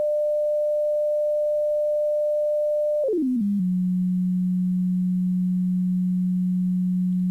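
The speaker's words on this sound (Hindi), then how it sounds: "मैं फ्रिक्वेंसी चेंज करूँगा, इसको कुछ डिले के बाद वो फ्रिक्वेंसी जो है उसका साउंड आएगा" A pure electronic test tone from a sound experiment holds steady at a mid pitch, then slides quickly downward and settles into a lower steady hum for the rest of the clip, clean and continuous with no other sounds.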